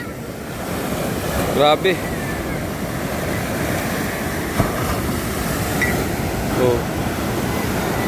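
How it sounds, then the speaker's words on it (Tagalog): Ocean waves crash onto a shoreline village, battering houses and moored boats. The surf roars continuously and close, with brief exclamations from a person at the water's edge. "At ang kanilang lugar ay kinakalkal ng alon."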